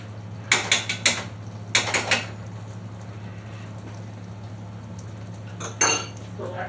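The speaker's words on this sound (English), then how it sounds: "I'm just going to add a big spoon of butter." A spoon clinks and scrapes against a bowl in a small kitchen while scooping butter, a few short rattling clatters in two bursts, then quiet, then one more scrape under a low hum.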